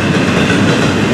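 A train rolls along a section of track recently inspected and repaired after an incident, giving a loud, steady broadband rumble with faint rail clatter and no break, close by, while a voice speaks over it.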